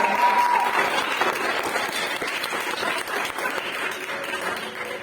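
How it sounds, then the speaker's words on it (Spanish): Sustained applause from a church congregation, dense and steady, fading slightly toward the end. "Denle un fuerte aplauso al Señor"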